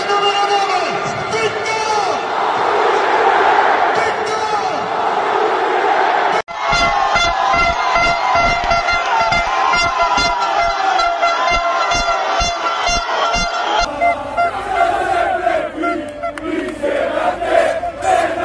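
Napoli football fans celebrating a championship win in the streets, a loud dense crowd roar with blaring horns and shouting, then sustained rapid honking and chanting continuing throughout.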